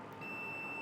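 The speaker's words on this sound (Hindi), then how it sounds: "बज़र की आवाज़ आपको सुनाई दे रही होगी।" A digital multimeter set to continuity gives a steady, fairly quiet electronic buzzer tone while probing a magnetic contactor's contacts. The tone sounds alone and unbroken through most of the moment.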